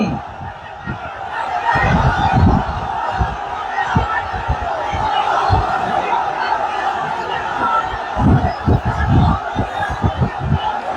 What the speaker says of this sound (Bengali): আসমান জমিন কাঁপিয়ে তোলো তাকবীর ধ্বনিতে